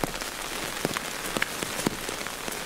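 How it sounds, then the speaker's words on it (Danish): Very heavy rain pours down outdoors during a Danish field trial championship with gun dogs, a dense, steady hiss with scattered close drops tapping on a surface, with no voices. "Det er kolossalt, som det regner her."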